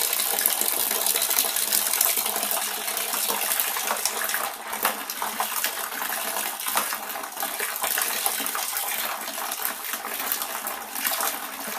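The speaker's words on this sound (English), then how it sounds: "now I'm going to top this up to 20 litres with the pre-treated water" Pre-treated water, left overnight with half a Campden tablet, pours from a height into a brewing fermenter as a steady splashing gush that shifts slightly in tone while the vessel fills, with no talking.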